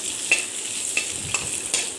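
Coarsely chopped onions sizzle steadily in a hot pan on their own, with about four sharp scrapes of a spoon stirring them at irregular intervals.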